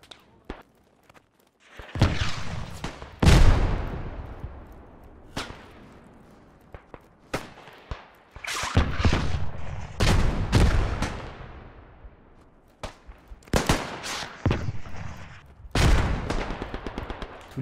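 Sharp gunshots and booming artillery blasts in the trench warfare video game Beyond The Wire fire in irregular bursts, some close and loud, others trailing off, with gaps of quieter rumble between volleys.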